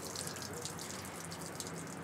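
Oil and fuel draining out of an aircraft engine still hanging on the wing, a steady splashing, trickling pour into a drip tray that runs the whole time, close and fairly loud, with no voices.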